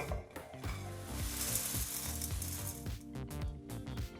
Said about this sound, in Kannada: ಈ ಪಾತ್ರೆ ಚಿಕ್ಕದಿರೋದ್ರಿಂದ ನಾವು ಬಾಣಲಿಗೆ ಸೇರಿಸಿ ಎಲ್ಲನೂ ಚೆನ್ನಾಗಿ ಬೆರೆಸ್ಕೊಳ್ತೀವಿ